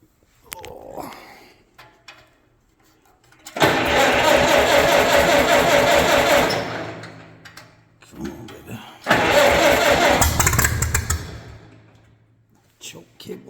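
An Allis-Chalmers 8550 tractor with melted-down wiring, its points hot-wired and its choke cable sticking, cranks and roars loudly in two long bursts separated by a pause, with people talking before and between them.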